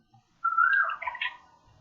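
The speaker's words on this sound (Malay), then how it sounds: "Macam mana ada bunyi burung lah tu?" A single bird call from outdoors, heard during an online maths lesson: one short whistled chirp lasting about a second, fairly clear against quiet.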